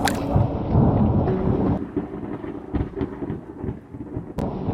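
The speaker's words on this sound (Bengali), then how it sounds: "আকাশে যে কালো মেঘ ঢেকে গেছে প্রচন্ড বিদ্যুৎ চমকাচ্ছে" Thunderstorm effect in a Bengali horror story set on a river boat: a loud rumbling crash of thunder with rain-like hiss that fades into softer rolling grumbles and a sharp crack near the end, with no talk.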